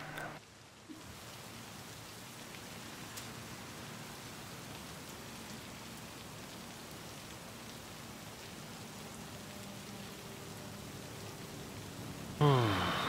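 Steady rain falls over Night City in Cyberpunk 2077, a continuous even hiss of drops on surfaces that holds through the whole stretch, with a brief louder burst near the end.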